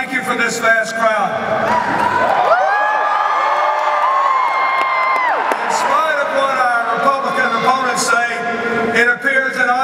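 A vast crowd at a political rally for President Obama cheering and whooping loudly, a dense roar of shouts and yells that swells and stays strong throughout, with voices mixed into the din.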